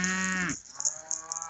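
A cow on a farm, a mother with twin calves, gives one loud, deep, drawn-out moo close by that cuts off abruptly, followed by quieter scattered farmyard noises.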